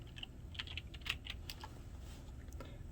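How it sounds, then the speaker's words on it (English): Close, quick keystrokes on a computer keyboard type out a name in irregular bursts of clicks over a quiet room hum, with no talking. "So I'm going to type in his name here."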